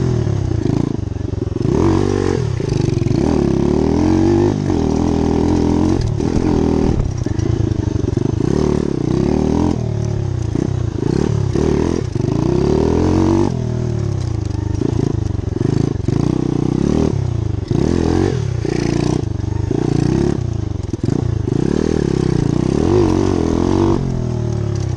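Small motorcycle engine ridden around a little circuit, a loud continuous buzzing drone that rises and falls with repeated throttle changes and gear shifts, close throughout.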